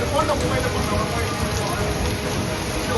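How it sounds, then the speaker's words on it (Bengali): Heavy rain driven by strong stormy wind across South Bengal streets and government buildings: a dense, loud, unbroken roar of downpour, steady throughout and close. "তুমুল বৃষ্টি সঙ্গে প্রবল ঝোড়ো হাওয়া"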